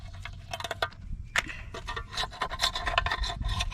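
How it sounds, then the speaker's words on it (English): A chisel scrapes and rasps an old, brittle transmission gasket off the transmission of an Infiniti I35, giving close, irregular scratching strokes with a sharper crack near the start. "So we need to remove old gasket just using the chisel."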